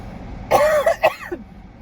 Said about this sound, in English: sorry, it was really cold, it made me cough